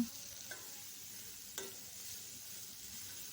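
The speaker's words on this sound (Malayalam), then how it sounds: "ശേഷം നന്നായി ഇളക്കി കൊടുക്കുക" Steady sizzling of potatoes frying in masala with occasional scrapes of a spoon stirring in a pan, no voices.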